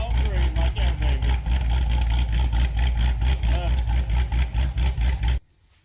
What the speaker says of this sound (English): We just wanted him to hear the initial startup cold start.